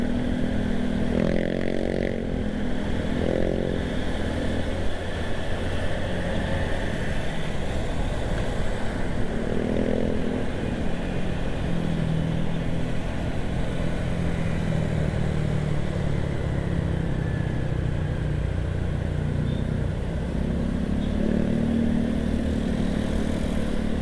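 A motor scooter rides through Jakarta traffic, its steady close engine drone and rumbling wind noise running continuously, with other vehicles passing and faint horn-like tones now and then.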